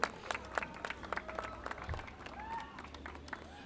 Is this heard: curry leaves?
no